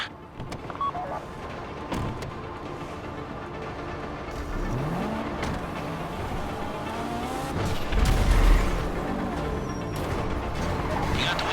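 Car engine in GTA V gameplay, driving during the Fleeca Job heist: a steady motor drone with shifting revs and swells, loudest around the middle, carrying on under light game noise without interruption.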